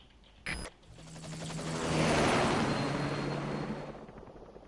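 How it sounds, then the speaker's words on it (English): A helicopter in the video game Metal Gear Solid 5: The Phantom Pain swells into a loud rotor-and-engine roar that peaks and then fades, following a short sharp tone, with no talk. "Just get in the chopper."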